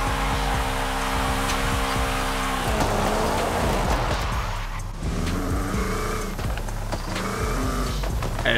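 Abarth 595 Esseesse in Forza Horizon 5, fitted with a swapped rally engine and turbo, drones loudly and steadily, its engine note shifting pitch partway through as the car races on without any talk.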